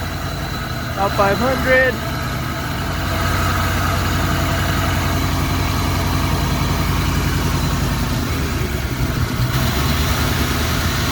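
A Ford Foxbody Mustang engine idles steadily with a low, even rumble, its back cylinder running cold; a brief voice-like sound comes near the start before the idle settles in loud and close.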